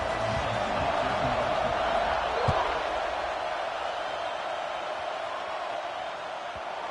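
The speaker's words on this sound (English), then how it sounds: "This crowd bringing an ear-splitting welcome to their visitors." A large stadium crowd roars in a steady, loud wash of cheering in a college football video game, with a brief thump partway through and a commentator talking over it.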